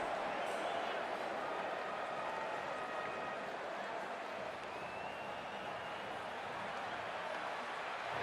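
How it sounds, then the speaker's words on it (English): A large crowd at the India vs Bangladesh Asia Cup 2025 Super 4 cricket match in Dubai makes a continuous, broad roar as players take the field, steady and somewhat distant throughout. "it's a loud crowd as the players make their way out"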